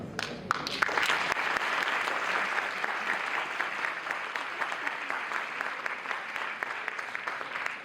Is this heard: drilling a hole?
no